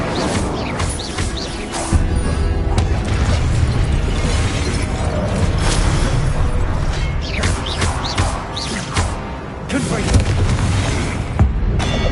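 Confringo blasting spell from the Hogwarts Legacy video game, with repeated booming blasts and crackling bursts over a sustained rumbling bed of combat noise, plus sharp shattering transients, while a player voice talks over the action.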